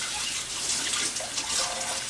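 A kitchen water tap runs steadily as a spoon used for rice is rinsed off under it, a close, continuous hiss of flowing water with no talking.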